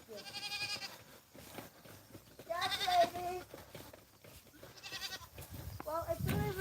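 Goats bleat on a farm during chores, several loud wavering calls spaced across the stretch, mixed with a person speaking nearby.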